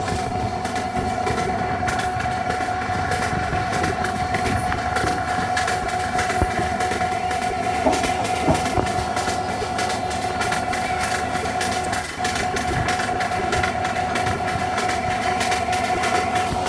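A train running in the video game Train Simulator Bangladesh, with black smoke from the engine: a loud continuous rumble and rhythmic rail clatter with a steady engine drone, no voices.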